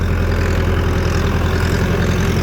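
A tractor engine idles steadily at close range with a low, even chug and rapid regular pulse, running alone on a farm after being washed, with no talk over it.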